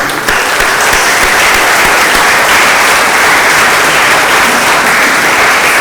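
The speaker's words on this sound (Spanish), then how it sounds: "Sí, un aplauso al Señor." A church congregation at a Bible seminar bursts into loud, steady applause, dense clapping filling the room evenly for several seconds with no speech over it.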